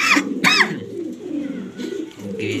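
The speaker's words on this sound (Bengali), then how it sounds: "এটা একটা আনকমন কবুতর, কালারফুল" A grizzle racer pigeon coos close by, two quick rising-falling calls at the start followed by a softer, low throaty cooing that continues in short phrases.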